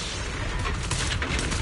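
Suppressing gunfire in the video game Zenless Zone Zero: a continuous rattling barrage of rapid shots, dense and noisy throughout, fairly quiet in the mix and with no speech.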